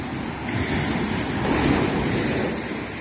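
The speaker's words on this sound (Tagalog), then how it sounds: "Lakas na ng alon." Strong ocean waves wash onto a beach at high tide, a steady broad roar of surf with slow swells rising and falling, mixed with some wind rumble against the microphone, heard close with no talking.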